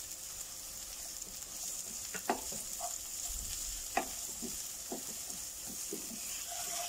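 Chopped onions frying in hot cooking oil give a steady, soft sizzle with scattered crackles and pops, heard alone at a moderate distance.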